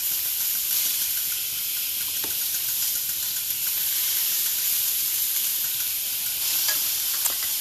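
Teriyaki chicken sizzling steadily on a grill over medium-low heat, a continuous close hiss and crackle with a few sharper pops, no talking.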